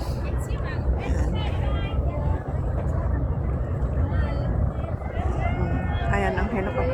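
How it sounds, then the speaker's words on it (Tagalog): A helicopter comes in to land at a park in Admiralty, its steady rotor rumble filling the background under continuous nearby talk. "Ayan, oh yan o, palanding na ang helicopter."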